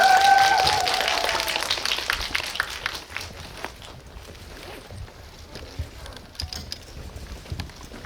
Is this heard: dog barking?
no